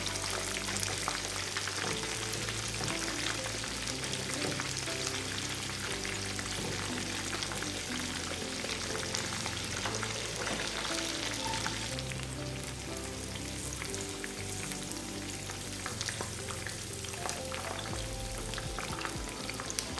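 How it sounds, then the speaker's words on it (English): Chicken fillets fry in hot oil with a constant, loud crackling sizzle, punctuated by occasional pops and light stirring or flipping sounds throughout. "Flip the fillets for even frying on both sides."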